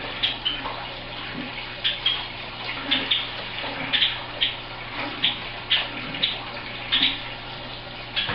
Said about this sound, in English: And when you're done, rinse this out.